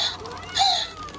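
Short electronic cawing from an animatronic Halloween crow toy in a store, a couple of synthetic, close calls with a brighter burst in the middle.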